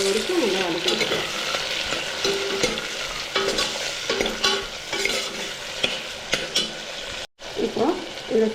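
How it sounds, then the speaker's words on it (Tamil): Tomatoes sautéing in a pan for mint pulao, with a steady loud sizzle and repeated scraping stirs close up. Utensil taps and pan noises mix in, and there is one brief dropout near the end. "2 ஸ்லைஸு 2 தக்காளி சேர்த்துட்டு நல்லா இது வதங்கி வர வரைக்கும் நல்லா வதக்கிக்கலாம்."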